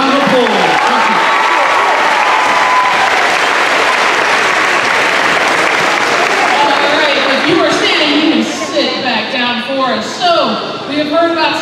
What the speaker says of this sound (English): give your student athletes a big round of applause